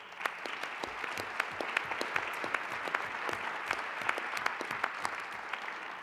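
A seated audience at a documentary screening gives applause, with many individual hand claps standing out sharply over a dense background patter, steady and fairly distant, with no voices.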